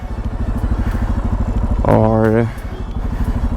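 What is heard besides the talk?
motorcycle engine starting and idling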